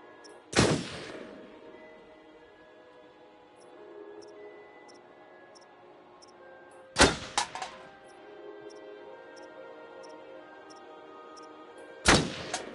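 Three loud, sharp gunshots ring out at a shooting range at the base of a ski lodge in a video game, spaced several seconds apart with quiet ambience and a faint repeating tick between them.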